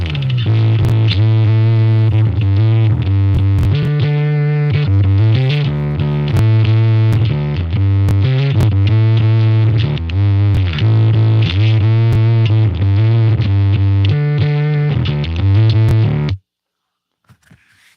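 A heavily distorted electric guitar played through a Gallien-Krueger bass amp model plays a loud, thick riff with a booming low end for about sixteen seconds, then cuts off abruptly.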